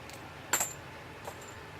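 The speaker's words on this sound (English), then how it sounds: "That's it, just sorting the brass." .45 ACP brass cartridge casings being sorted give two brief, bright metallic clinks, a sharper one followed by a softer one, close but quiet in a still room.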